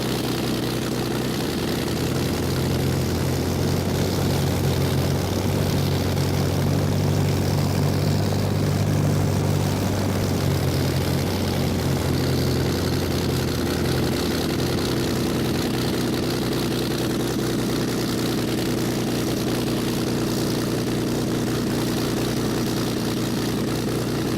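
A Spitfire's propeller engine idles and rumbles while taxiing in Microsoft Flight Simulator X, a steady, loud drone with a throbbing low pulse that holds throughout.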